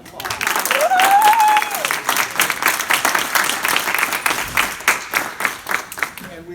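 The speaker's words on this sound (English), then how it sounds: "Let's give the club officers a round of applause." An audience at a club officer induction ceremony applauds loudly and steadily, rising then gradually thinning, with a voice speaking briefly over the clapping near the start.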